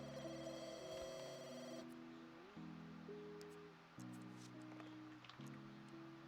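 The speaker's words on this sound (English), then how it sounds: "Harvey, can you go answer the phone?" A telephone rings in The Sims 2 life-simulation game, a repeated electronic ring over the game's steady background music with sustained chords, with no talking.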